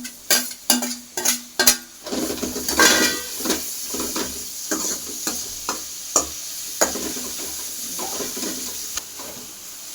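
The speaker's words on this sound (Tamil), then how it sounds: "இஞ்சி பூண்டு பேஸ்ட்டு நல்லா வணக்கினதுக்கப்புறம், பச்சை வாசம் போனதுக்கப்புறம் தக்காளி போட்டுக்கலாம்." Tomatoes frying in a pan with ginger garlic paste for a potato kurma, sizzling steadily while a metal spoon stirs and scrapes with a quick burst of clatters early on, then sporadic knocks against the pan.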